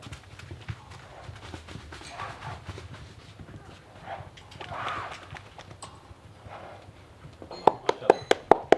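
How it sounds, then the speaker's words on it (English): Arabian horse's hooves clip-clop in a show demonstration in Kuwait, with a crowd murmuring throughout and a sharper run of rhythmic hoof strikes near the end. "they're bringing one of the horses to give us a demonstration of its Arabian power and beauty"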